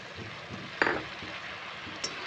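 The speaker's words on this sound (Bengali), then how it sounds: "মশলাটা তেলের সাথে খুব ভালো করে নেড়ে চেড়ে নিচ্ছি" Spices stirred into hot oil in a pan for a vegetarian jackfruit curry, a steady close sizzle of frying with one sharp scrape of the spoon partway through and a faint clink near the end.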